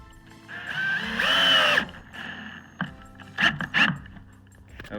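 Power drill driving screws into wooden boards while building a raised planter box, a close whining burst of motor followed by several short revving spurts with pauses between.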